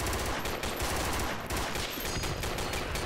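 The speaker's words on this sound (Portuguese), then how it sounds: "Eu metralhei esse cara e ele não morreu." Automatic rifle fire in Project Reality 2, a continuous loud rattle of rapid shots packed tightly together, dense and close with no pauses and no speech.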